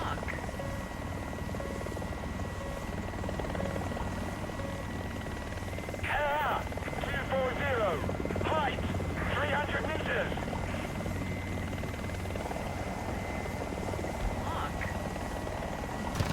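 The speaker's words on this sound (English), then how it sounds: "helicopter on helicopter fight" AH-1Z attack helicopter in the War Thunder video game, a steady rotor and engine drone throughout with a brief burst of clattering combat noise in the middle, heard alone without talk.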